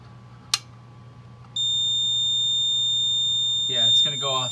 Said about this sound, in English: if I pull again, I believe this panel goes into alarm